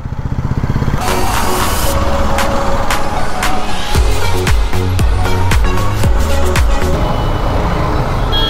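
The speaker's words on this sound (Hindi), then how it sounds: "ट्रैफिक देखो ना, क्या ट्रैफिक है" Busy road traffic in Guwahati rumbles steadily nearby, with motorcycle and truck engines, passing vehicles and repeated horn blasts layered over one another throughout.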